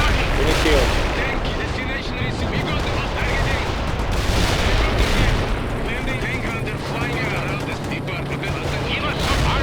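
Artillery fire and battle noise from the real-time strategy game World in Conflict make a dense, continuous roar of blasts and rumble, with radio-style unit voices mixed in.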